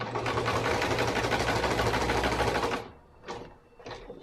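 A sewing machine runs in a fast, steady rhythmic burst, stitching the top seam of a Pikachu plush body for nearly three seconds, then stops, followed by a couple of brief soft handling sounds.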